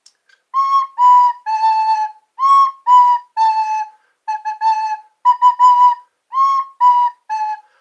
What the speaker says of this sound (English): Some people ask me to play my recorder.